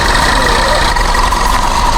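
Steady idling engine of a 1982 Ferrari 308 GTSi, a continuous close rumble holding an even level throughout with no pauses.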